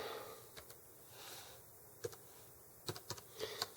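Slow one-handed typing on a computer keyboard, sparse irregular keystrokes, quiet and close, with light breathing between taps.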